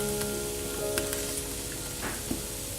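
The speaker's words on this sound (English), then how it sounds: "I'll add in the butter." About two tablespoons of butter melting in a pot of softened vegetables for corn chowder, giving a steady close sizzle with a few faint clinks and stirring noises.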